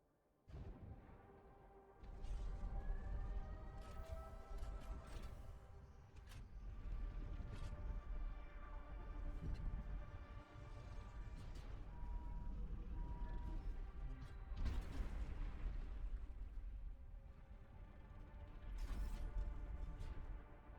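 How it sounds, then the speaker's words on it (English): Space elevator deploying in the video game Satisfactory, a continuous loud mechanical groan of creaking, ratcheting gears and shifting metal with occasional clanks and whooshes, sustained for about twenty seconds. "I always take a moment to enjoy this thing as it deploys"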